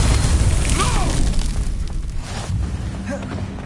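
A Confringo blast spell bursts in the Hogwarts Legacy video game, a loud booming explosion with crackling debris over a dense rumbling game soundscape and brief whooshing effects.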